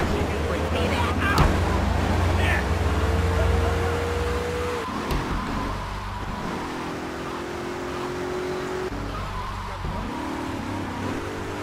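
A car drives in the video game GTA 3, its engine droning steadily at moderate level with several pitch shifts as it speeds up and changes gear, plus a few sharp knocks, over continuous background game noise.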